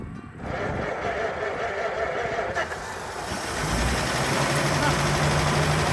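A 1927 Chrysler sedan engine cranks and catches, then runs with a rough, rising low rumble that grows louder and steadier toward the end, close by with voices over it.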